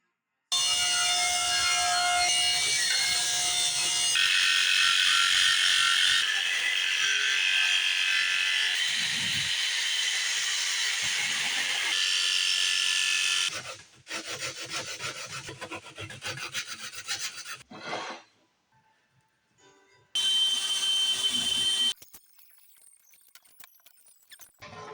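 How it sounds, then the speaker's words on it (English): Hand sanding on a skiff trailer part during the Michalak AF4 Grande skiff build, a steady dry rasping rub that runs loud and continuous, then breaks off into short bursts and brief gaps before resuming. "sand this down so that I can paint it later"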